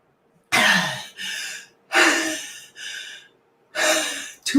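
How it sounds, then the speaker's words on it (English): A man demonstrates gasping for breath with loud, close, rasping inhalations. Each deep gasp is followed by a breathy exhale, repeated about three times with short pauses between. "That's called gasping for breath."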